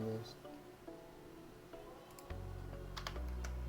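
Keys tapped on a computer keyboard, a few soft clicks scattered among a low steady hum, ending in a small burst of quick taps.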